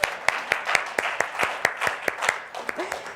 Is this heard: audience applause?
yes